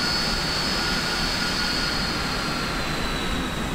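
Simulated Boeing 747-400 jet engines idle while taxiing in a flight simulator game, producing a steady, loud, broadband roar with a high whine. It runs continuously with no pauses and no talk.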